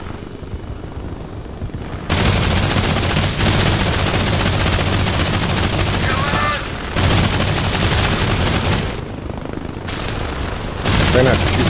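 Gunfire from a helicopter in the video game Arma Reforger comes in long, loud bursts over the steady drone of rotors, with someone talking briefly in between.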